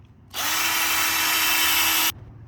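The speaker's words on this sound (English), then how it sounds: "Got the second hole drilled." A power drill with a 1/4 inch bit whines steadily through metal on a mower in one continuous burst of just under two seconds, loud and close, then stops abruptly.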